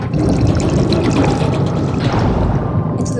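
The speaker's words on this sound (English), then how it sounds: "let in some water." Water rushing and pouring steadily into a wrecked craft in the deep-sea video game Abyss, a loud continuous churning gush heard on its own without voices.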